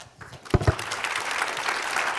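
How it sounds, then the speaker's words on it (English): A conference audience bursts into applause for a panel on 21st-century refugees, opening with two sharp close claps before a broad, continuous wash of many hands that holds steady to the end. "Again, a big round of applause for all the panelists."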